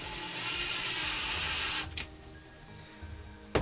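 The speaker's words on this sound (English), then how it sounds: "let's drive a screw here with the driver" A Ryobi cordless drill driver drives a screw into a pilot hole, its motor whirring steadily under load for about two seconds, then a click as it stops, a quieter hum, and a sharp tap at the end.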